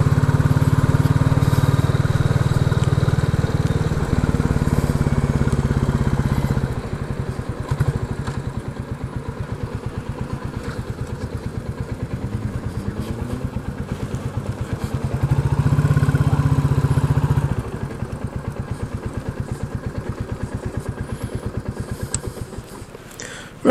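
Royal Enfield Classic 350 single-cylinder engine with a de-cat exhaust, close and loud, thumping at a steady idle with two brief revs that swell the low rumble, a rapid regular beat throughout.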